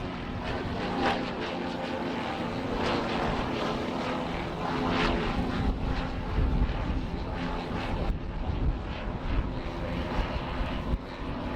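A propeller model aircraft drones overhead at a distance with its undercarriage down, its engine steady and rumbling as it passes at an air show, with no talking.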